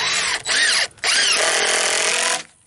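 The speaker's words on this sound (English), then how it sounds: "I'm just going to run a couple of screws in here real quick" Screws are driven into the corner of a wooden raised garden bed with a power drill: two loud, close whirring bursts separated by a short pause, then a longer steady run that stops abruptly.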